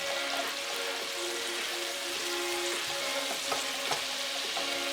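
Garlic frying in butter in a pan over medium heat, a steady close sizzle and crackle with light stirring scrapes running continuously throughout.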